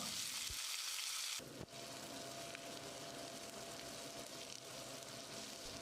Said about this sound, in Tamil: வெங்காயத்தை சிவக்கிற அளவுக்கு வதக்கிடலாம்